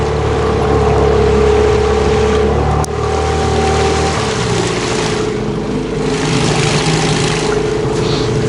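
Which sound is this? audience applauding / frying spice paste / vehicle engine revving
vehicle engine revving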